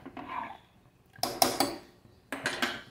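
A metal spoon scrapes and clinks against a pressure cooker while dal with salt and turmeric is stirred, in short bursts of clatter between quiet gaps.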